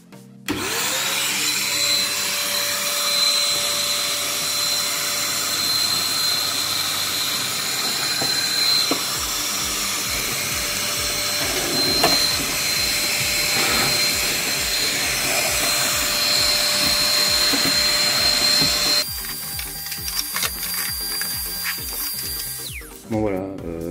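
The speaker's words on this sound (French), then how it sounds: "Donc là je vais vous montrer en fonctionnement avec le poêle à granules." A Ribimex Minicen 800W ash vacuum cleaner runs continuously at close range while sucking ashes out of a pellet stove, a steady loud motor whine with rattling debris crackles, its tone shifting near the end.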